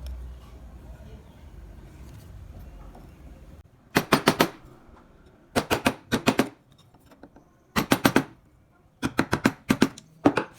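A gouge chisel carving wood, in bursts of sharp, rapid tapping strikes grouped in short clusters with quiet gaps between them, loud and close.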